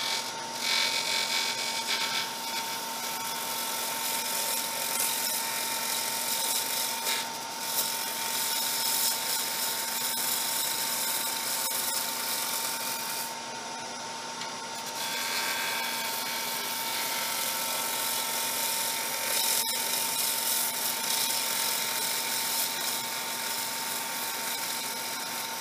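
A gouge rubs the bevel on spinning wood at a lathe during a turning club demo, giving a steady, loud, broadband hiss with a constant motor hum beneath, running continuously with only a brief dip midway.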